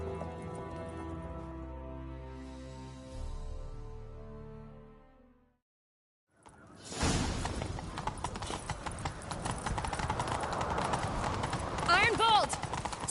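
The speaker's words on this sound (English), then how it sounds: "Grab a horse, we'll chase him down." Horse galloping in The Witcher 3: after a stretch of music and a brief silence, a steady, rapid run of hoof clip-clops sounds up close and keeps going to the end over in-game ambience.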